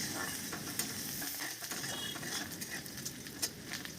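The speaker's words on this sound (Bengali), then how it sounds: "পেঁয়াজটা এইভাবে ভাজতে ভাজতে" Onions frying with a little salt for a small-fish curry, a soft continuous sizzle broken by light scraping stirs at an irregular rhythm, close by and fairly quiet.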